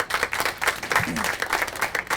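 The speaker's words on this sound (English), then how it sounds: "let me hear the Democrats in the room by applause first." A comedy club audience at a stand-up show gives a short burst of scattered clapping with a few voices mixed in, brief and moderately loud.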